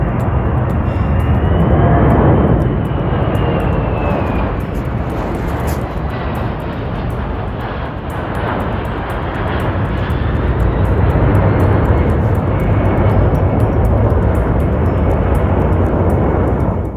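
The engines of a C-17 transport aircraft run smoothly at close range, a loud, steady turbine roar and rush holding throughout with slight swells, no voices over it.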